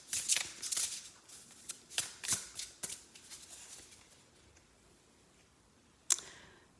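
Flower essence cards being shuffled by hand, a quick run of close crisp riffling flutters that fade out, then a single sharp snap of cards near the end.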